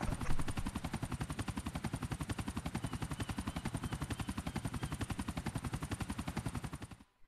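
Helicopter in GTA IV, a loud, steady rotor chop with fast even thumping pulses throughout, cutting off abruptly near the end, no talk.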